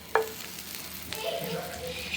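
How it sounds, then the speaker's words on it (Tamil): A little butter dropped into a hot pan on the stove, a sharp clack followed by a soft building sizzle and light stirring, close and alone. "கொஞ்சமாக பட்டர் போட்டுக்கோம்."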